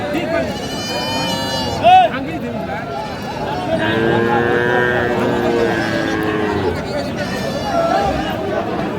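Friesian-breed heifer calves moo repeatedly, long low calls close by, while people talk and chatter in the background.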